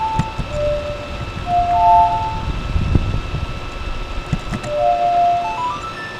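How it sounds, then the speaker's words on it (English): Ocarina notes from the Minecraft Ocarina Mod play the Song of Time in a short repeating melodic phrase, clear sustained tones over a low rumbling game background. "That's the Song of Time, of course."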